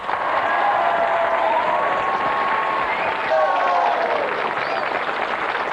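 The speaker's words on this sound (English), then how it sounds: "Give them a round of applause." A crowd claps and cheers in sustained applause, loud and continuous, with voices mixed into the roar.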